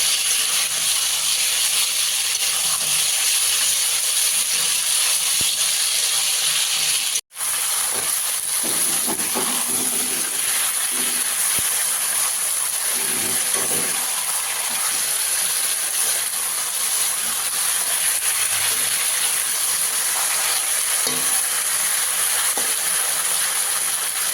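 Meat sautéed in oil in a pan for a kosha-style dish gives a steady, loud, continuous sizzling hiss that carries almost unbroken, with one brief cut early on.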